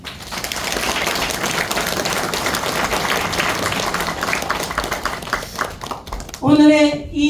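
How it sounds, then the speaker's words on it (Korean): A church congregation claps warmly at a pastor's installation ceremony, a dense, steady patter of applause lasting several seconds before a voice rises clearly near the end. "뜨거운 박수를"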